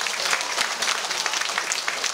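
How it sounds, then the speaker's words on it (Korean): A crowd applauding at the 2019 Sinan island pomfret festival, a dense, loud burst of many hands clapping together that stays constant through the short stretch. "박수 한번 보내드리시오"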